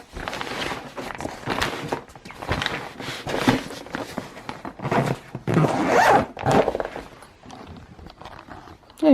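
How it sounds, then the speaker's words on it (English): A zipper drawn closed on a Cool and Serve square tray bag, several loud rasping pulls and fabric rustles close by, with handling noise between strokes. "As you saw, you zip it up"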